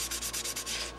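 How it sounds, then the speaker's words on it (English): Close, quiet rhythmic sanding strokes rub over Brodak dope finish on model plane wheel pants, about seven even back-and-forth passes in quick succession. "comes off like powder, you're ready to sand it."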